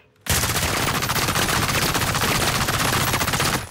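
Sustained automatic gunfire in the battle-royale shooter Warzone, a dense continuous burst of rapid shots lasting several seconds, loud and close with no talking.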